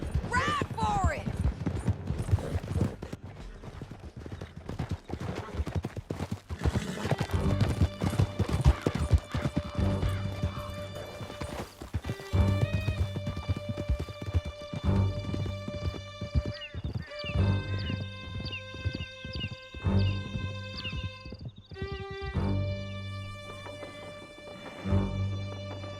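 Horses gallop in the Red Dead Redemption 2 video game, hooves pounding in a rapid clip-clop rhythm alongside neighs and scattered crashes and gunfire, with people talking and music over the action.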